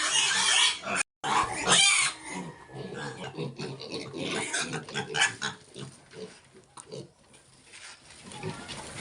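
Pigs grunt and squeal at feeding time on a farm, a dense run of overlapping oinks and snorts close by, with clattering and shuffling of feeding mixed in.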